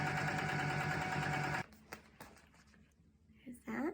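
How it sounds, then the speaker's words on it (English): A sewing machine top stitching shapeshifter vinyl runs loud and steady for about a second and a half, then stops. A few clicks and a voice follow. "Now I'm going to top stitch that side."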